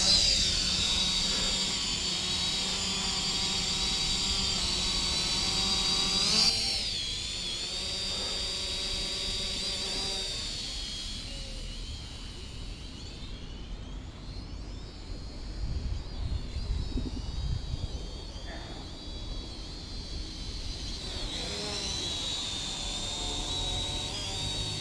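A Holy Stone HS155 drone, tested after an arm repair, lifts off and flies with a high whining propeller buzz that shifts in pitch, loud at first, then quieter and wavering as it moves away.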